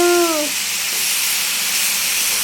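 Potatoes frying with spices for aloo bhaji give a steady, broad sizzling hiss that fills the clip, opening with a brief falling tonal squeal in the first half-second.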